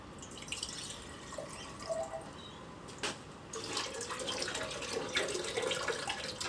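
Liquid pours and trickles continuously from a handmade ceramic pot, with small splashes and drips, close by and moderately quiet.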